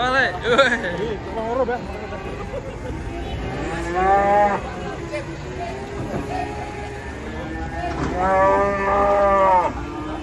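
Cattle moo loudly several times while being unloaded from a truck, long drawn-out lows rising over a steady background of murmuring voices and outdoor noise.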